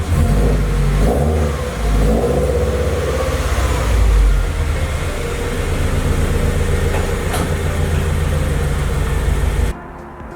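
A Subaru BRZ fitted with gold wheels revs and rumbles close by as it is driven back into a garage, its engine note rising and falling with throttle blips before cutting off abruptly near the end.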